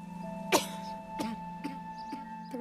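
A mother coughs in the video game What Remains of Edith Finch, four or five short, faint coughs spaced about half a second apart over a steady background hum.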